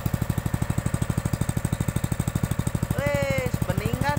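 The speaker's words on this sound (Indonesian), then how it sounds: "kita angetin dulu mesinnya, kita panaskan terlebih dahulu" A farm irrigation pump engine over ten years old warms up with a fast, steady, loud chugging beat of regular thumps, and someone talks over it near the end.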